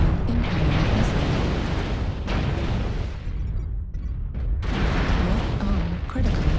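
Missile explosions strike a mech in a video game, heavy roaring blasts that rumble continuously and loudly with brief dips, while a synthetic warning voice calls out over them.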